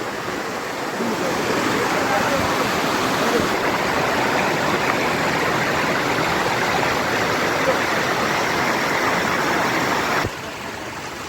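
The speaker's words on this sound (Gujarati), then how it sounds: "હવે ફૂલ વરસાદ ચાલુ થઈ ગયો છે અને એના હિસાબે ઝરણા પણ વધી રહ્યા છે" Rain-swollen streams on the Girnar mountain climb rush in a loud, steady broadband roar that holds constant for about ten seconds, then drops slightly. No one speaks.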